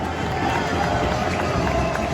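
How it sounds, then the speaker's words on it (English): Stadium crowd noise after an Inter Miami soccer win, a continuous broad roar of fans cheering and murmuring, steady in level throughout the short stretch. "Crowd goes wild."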